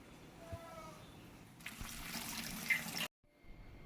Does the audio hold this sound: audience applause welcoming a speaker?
no